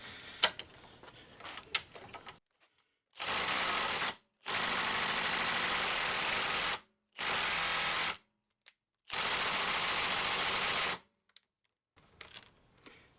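DIY right angle driver converted from an air ratchet, running as several loud, steady motor bursts of one to two seconds each, separated by short silences, with faint handling noise before and after.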